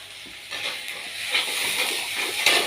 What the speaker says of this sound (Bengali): এই দেখো টমেটো কাঁচা লঙ্কার পেস্টটা ভাজা ভাজা হয়ে গেছে